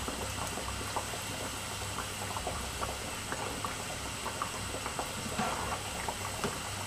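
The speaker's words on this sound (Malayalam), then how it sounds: "ഇത് ഫ്രൈ ചെയ്തെടുക്കാനായിട്ട് ഒരു മീഡിയം ഫ്ലെയിമിൽ ഇട്ടാൽ മതി" Vegetable cutlets frying in a covered pan over a medium flame give a steady, soft crackle and bubbling with scattered small pops, a low hum beneath, no voices.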